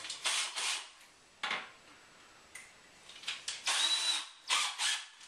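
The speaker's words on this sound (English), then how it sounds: "rechargeable drill or electric drill, doesn't really matter" An electric drill whirs in several short bursts separated by pauses while fitting wooden Venetian blind brackets, close and fairly loud, with one longer sustained run near the end.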